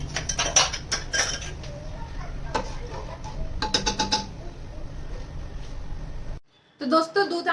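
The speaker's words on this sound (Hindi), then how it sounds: "दोस्तों यहाँ पर मैंने बर्तन रख दिया है, बस हम खीर के लिए चढ़ा देते हैं दूध" A metal pot is set on a kitchen stove to boil milk for rice kheer, with sharp clanks and clinks of utensils in bursts, then a short silence and more rattling.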